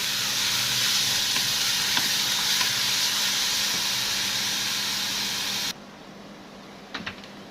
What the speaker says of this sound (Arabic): دول بالظبط بصلايه كبيره. واديها بقى تقليبه كده.